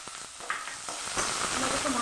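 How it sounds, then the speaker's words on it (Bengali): Chopped onion and ginger frying in hot oil for a potato-and-egg chop, a faint steady sizzle with a few soft stirring scrapes, brief and alone. "এটাকে ভালো করে লাল করে ভেজে নেবো।"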